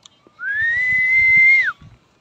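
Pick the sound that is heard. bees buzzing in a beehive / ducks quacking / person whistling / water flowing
person whistling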